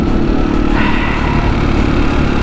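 A Husqvarna 701 single-cylinder motorcycle roars loud and close in third gear during a wheelie, its engine note dense and steady with a slight rise partway through.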